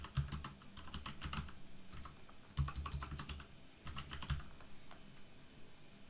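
Keys clatter on a computer keyboard while entering text into a Word document, in three quick bursts of close, crisp typing separated by brief pauses.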